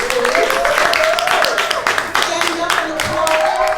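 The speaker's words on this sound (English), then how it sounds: "So give them a beautiful round of applause as they come on into the stage." Live podcast show audience applauds and claps as hosts walk onto the stage, a dense, loud crowd clapping with shouting and cheering voices throughout.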